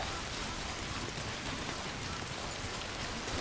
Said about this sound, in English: just when I thought it couldn't rain any heavier. Down comes the rainfall.